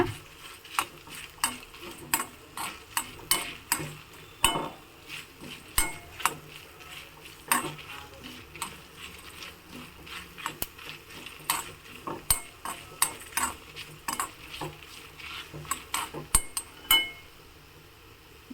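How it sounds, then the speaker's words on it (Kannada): Curry leaves being stirred and fried in a pan while a Udupi Kundapura Brahmin-style breadfruit huli is cooked, with frequent sharp metallic spoon clinks against the pan over a low steady frying hiss. "ಕರಿಬೇವಿನ ಸೊಪ್ಪನ್ನು ಸಹ ಹಾಕಿದ್ದೀನಿ ಚೆನ್ನಾಗಿ ಹುರ್ಕೋಬೇಕು"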